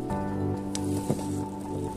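Water is poured into a wide-mouthed glass jar while setting up a money plant cutting, a steady trickling, bubbly splash at moderate volume that runs continuously for a couple of seconds without talk.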